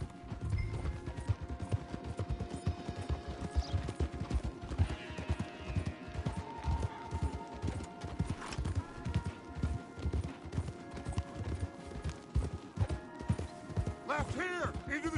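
Rapid hoofbeats of several galloping horses in Red Dead Redemption 2 pound steadily throughout, with a horse whinnying and scattered clatter over the dense, driving rhythm.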